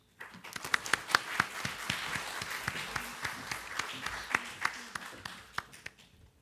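An audience at a campus student-services storytelling evening applauds as a reader comes to the stage, producing about six seconds of steady, moderately faint clapping with scattered sharper individual claps.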